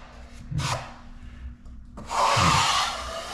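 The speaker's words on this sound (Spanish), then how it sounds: "Esto tengo que lijarlo con una lija." Two bursts of rough, scratchy sandpaper rubbing against a surface, separated by a short pause, close and moderately loud with a faint steady hum beneath.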